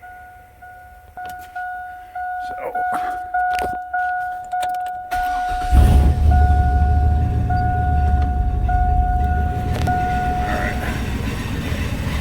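A 1999 or 2000 car starts up and runs on a shop lift after a door chime, its steady engine hum close and loud with brief talk at the start.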